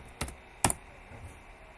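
Two quick bursts of computer keyboard keystrokes as a password goes in, sharp and close, followed by a quiet pause.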